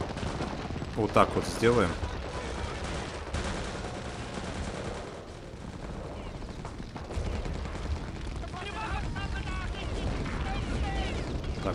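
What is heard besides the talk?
sniper gunfire in the video game Wolfenstein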